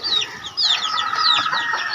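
Chickens of a native Visayan breed cluck steadily and close up, a mother hen among them with chicks, sounding in overlapping, busy bursts with no talk over them.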